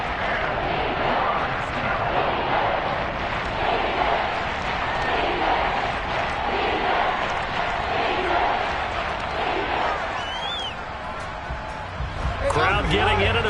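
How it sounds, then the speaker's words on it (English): A stadium crowd roars continuously at a Tampa Bay versus Baltimore football game, a loud, dense wall of cheering with voices talking over it. "Crowd getting in it a bit already."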